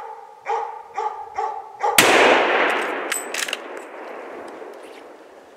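A single loud, sharp rifle shot cracks out during a moose hunt after a few rhythmic barks from a Jämthund, its echo ringing and slowly fading across open space.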